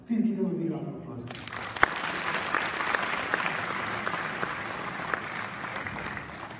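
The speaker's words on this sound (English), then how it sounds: "Please give them a big round of applause" Audience at a live stage concert giving a warm round of applause to children from a combined school, steady dense clapping that starts abruptly after a speaking voice and continues evenly with a few sharper claps.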